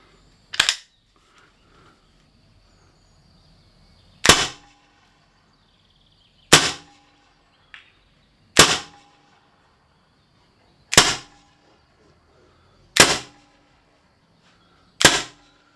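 Seven sharp, loud air pistol shots from an HDR.50 fitted with a Z-Ram extender, fired through a chronograph at irregular intervals a couple of seconds apart, each a crisp crack with quick decay and near silence between.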